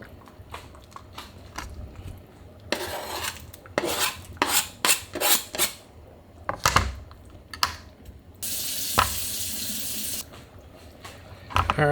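Filipino eggplants washed under a running kitchen faucet: bursts of splashing and rubbing against the vegetables, a few knocks, and then a steady gush of tap water, all close and fairly loud, with no talking.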